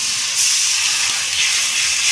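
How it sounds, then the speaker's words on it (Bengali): Water poured into a pan of hot masala for mutton curry sends up a loud, continuous hissing rush of steam that surges briefly partway through. "আমি এবারে জল দিয়ে দিচ্ছি।"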